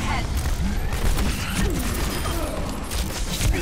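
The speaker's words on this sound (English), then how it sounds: "The turret is going for me" An automated turret in the hero shooter Overwatch fires nonstop, a dense, loud rattle of rapid shots packed into a chaotic wash of battle noise that never lets up.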